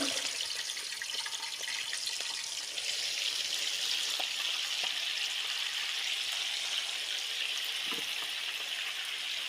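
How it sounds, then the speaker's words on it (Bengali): Fish frying in hot oil in a wok on a gas stove, a steady, dense sizzle and crackle that holds at even loudness throughout, close by with no talk. "এখানে কড়াইয়ের তেলটা গরম হয়ে গেছে আমি এখন একে একে মাছগুলো দিয়ে নেব"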